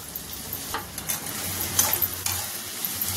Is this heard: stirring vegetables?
yes